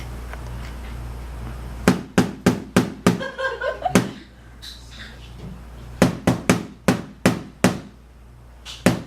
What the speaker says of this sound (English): I'm going to use this hammer and smash it